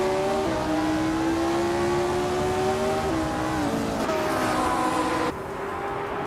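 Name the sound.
race cars starting at Eastern Creek Gardner track, racing game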